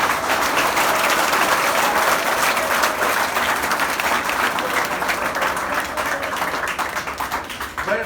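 Sustained audience applause at a college comedy show for freshers at Agarwal College, a steady wash of many hands clapping that thins slightly toward the end, with no talk.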